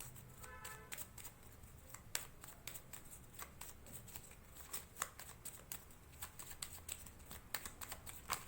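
Tarot cards are shuffled close up in a quiet room, giving a series of soft, quick riffling and flicking bursts, faint and repeated through the clip, with no talking.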